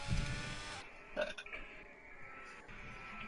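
A short burp sounds in the background beneath loud racing-game audio from an F1 22 league broadcast, among engine hum and clicks.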